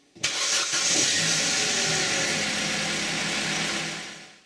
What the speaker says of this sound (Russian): Смотрим, какая вибрация на двигателе при заводке.